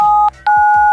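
Sped-up 1990s-style cell phone ringtone: two short bursts of steady electronic dual tones broken by a brief gap, loud and close, alone.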